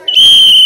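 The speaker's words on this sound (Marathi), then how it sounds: "शिट्टी वाजली का धावायचं आहे आता।" A single sharp, loud whistle blast sounds close by as a children's race at an annual school sports day begins, sustained and steady for most of a second with no voices over it.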